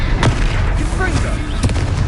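A Confringo spell detonates in a video game, giving two sharp blasts about a second and a half apart over a steady rumble, with game voices talking throughout.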